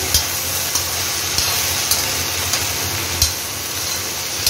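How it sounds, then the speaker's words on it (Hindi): Okra (bhindi) fries in a pan while being stirred, a loud continuous sizzle close by with periodic spatula scrapes and taps roughly every half second. "चलो अब जाके भिंडी को भी हिला देते हैं, नहीं तो वो नीचे से चिपक जाएगी।"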